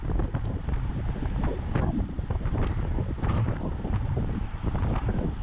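Strong wind buffets the microphone during an amateur road cycling race in Bredene, a loud, continuous roaring rush that covers everything else.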